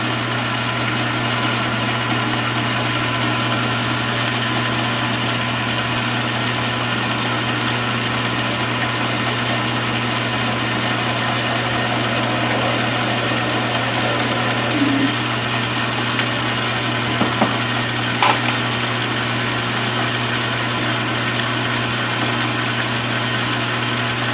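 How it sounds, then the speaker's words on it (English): A steady, loud machine drone with a constant hum runs without pause as a South Bend 13-inch lathe center-drills a hole in metal, with a few faint clicks near the end. "I'm gonna drill, center drill."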